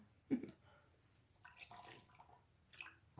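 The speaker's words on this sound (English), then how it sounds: "You heard that, it's just my water bottle." A short sloshing, liquid gurgle from a bottle near the start, followed by faint handling noises and quiet rustling.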